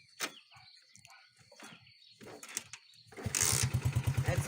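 Scattered clicks and mechanical fiddling give way to a Musstang Alpha motorcycle engine, just repaired, cranking and catching, settling into a loud, rhythmic sputtering idle.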